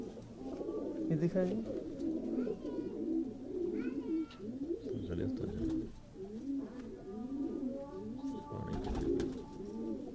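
Pigeons coo continuously at close range, their soft throaty calls overlapping throughout, while someone speaks briefly over them.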